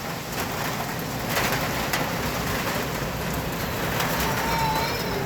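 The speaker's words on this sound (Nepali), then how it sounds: "पानी पर्न थाल्यो" Steady rain pours down in a dense, continuous hiss, with scattered drops pattering on nearby surfaces throughout.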